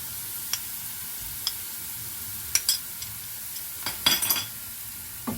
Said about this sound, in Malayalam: ഒരു ടീസ്പൂൺ ഇഞ്ചിയും അര ടീസ്പൂൺ വെളുത്തുള്ളിയും അരച്ചതാണ് അത് അതിലേക്ക് ഇടുകയാണ്